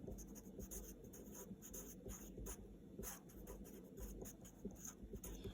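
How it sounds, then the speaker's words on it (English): A pen scratches out a math problem converting an improper fraction to a mixed number, with very faint, continuous rubbing strokes close to the microphone and no speech. "Let me just write that."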